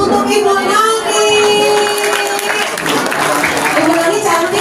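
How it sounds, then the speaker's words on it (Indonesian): An audience at a Ramadan welcome gathering of a women's organisation in Indonesia applauds steadily and loudly for several seconds, with a crowd murmur and a voice or music tone running underneath. "kita beri tepuk tangan untuk Ibu Nani."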